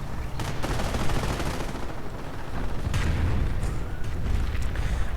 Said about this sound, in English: More Katyusha fire.